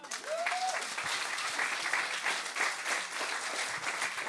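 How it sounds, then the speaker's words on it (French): A church congregation applauding, a steady wash of many hands clapping at moderate distance, with a brief voice at the start. "On peut les applaudir."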